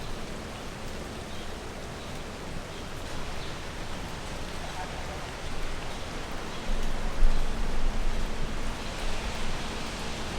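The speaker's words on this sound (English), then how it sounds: "Look at this dope tree canopy that I'm under, hiding from the rain." Steady rain patters densely all around, a continuous hiss of drops that grows slightly heavier partway through.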